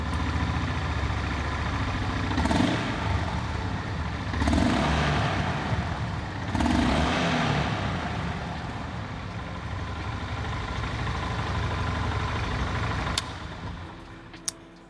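A Honda GB350 motorcycle idles steadily with a low, even engine rumble and a few brief swells in level, heard alone and moderately loud.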